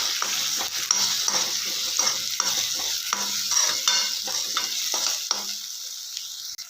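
Turmeric powder being stirred into tomatoes frying soft in a pan, with a steady sizzle under repeated scraping strokes of the spoon, close and fairly loud, no talk.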